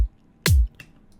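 A single isolated kick drum hit from an electronic production, a deep punchy thump with a falling low-end tail, clean and alone with no talk.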